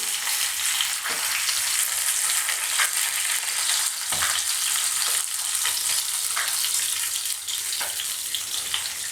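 Steady, close sizzling of jalebi fish (tilapia) frying in hot oil, a dense crackling hiss with occasional louder pops, continuous throughout with no voices.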